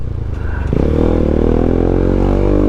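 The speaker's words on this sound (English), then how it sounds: "Yamaha pocket bike" A Yamaha PW50 pocket bike engine rises in pitch as it revs and passes close by, its loud buzzing drone steady and alone without talk.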